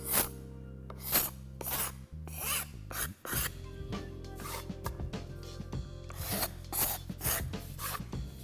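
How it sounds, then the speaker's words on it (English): Card scraper dragged across a glued-up wide wood panel to remove dried glue, producing repeated rasping strokes in an irregular rhythm, close and fairly loud, with a low steady hum beneath. "Before I run this through, I'm gonna try and get some of this glue off of here. I'm gonna use a card scraper to just"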